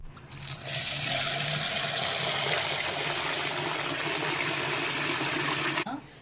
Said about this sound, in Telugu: ముందుగా మనం రొయ్యలను కడిగి పక్కన పెట్టుకుందాం